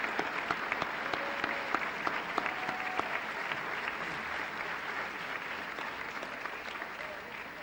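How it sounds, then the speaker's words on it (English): Applause at a university commencement ceremony carries on steadily from a large audience, a dense, even clatter of clapping that fades a little toward the end. "Please special applause to this category"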